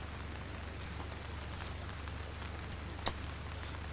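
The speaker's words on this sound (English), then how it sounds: "you can see now the rain again beginning to hammer down" Heavy rain hammers down on a golf course, a steady, even hiss of falling drops with a few sharper taps, distant and uniform with no voices.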